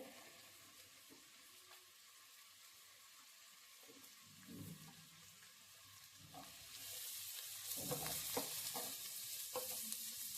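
Carrot and cabbage for momo filling are stirred in a pan, making a faint, low sizzle with soft scraping and clattering strokes that grows louder and busier toward the end.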